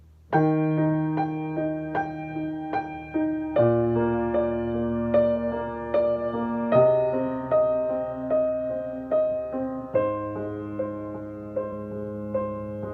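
Piano playing a steady pattern of repeated right-hand chords with left-hand low bass octaves entering between them, each struck note decaying before the next in a syncopated rhythm.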